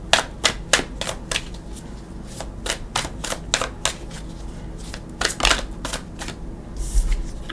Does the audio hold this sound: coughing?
no